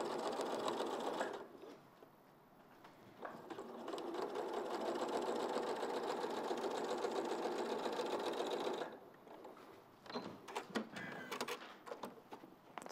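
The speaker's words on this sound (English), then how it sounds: "So now we're just sewing the other row to the top of the bottom of that block." A sewing machine stitches a row onto a quilt block, with a steady close mechanical whir running for several seconds, pausing, then resuming in shorter bursts.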